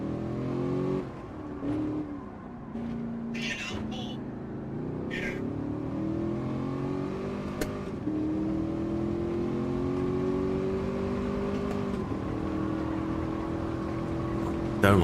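Chevrolet Camaro SS16 race car in a racing video game at Goodwood, its engine droning steadily and rising in pitch through long gear pulls, with brief shifts and a few sharp clicks, loud and continuous throughout.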